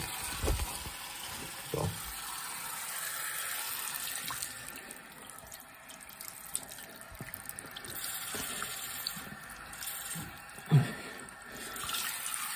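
Cold tap water running steadily, a faint continuous hiss of flowing water with a few louder splashes and clunks, alone with no speech.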